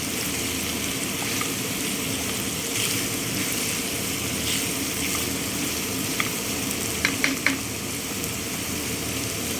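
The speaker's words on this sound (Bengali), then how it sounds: "জাস্ট দুই মিনিট এটা নেড়ে চেড়ে ফ্রাই করে নিতে হবে" Food frying in a pan for a French-style recipe gives a steady, fairly loud sizzle, with a few soft clicks of stirring near the end and no talking.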